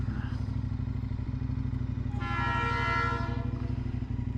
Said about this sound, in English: Freight train, passenger train? Freight train.